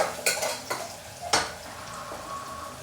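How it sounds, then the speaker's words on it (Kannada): Onions frying in a pan for a biryani, a few sharp scrapes of a stirring utensil over a steady low sizzle, close and fairly quiet. "ಚೆನ್ನಾಗಿ ಆನಿಯನ್ನ ಫ್ರೈ ಮಾಡ್ಕೊಳ್ಳೋಣ"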